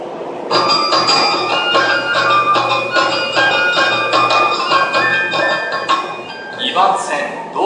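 A departure melody plays over the platform speakers at Tobu Railway's Shin-Koshigaya station, a loud bright chiming tune running continuously for several seconds before giving way to station noise.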